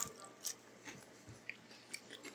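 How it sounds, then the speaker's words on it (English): Crispy smoked chicken wing skin from a Pit Boss pellet smoker crunches under a few quiet bites, with small irregular crackles and chewing spread across a couple of seconds. "that crunching sound, that was the skin"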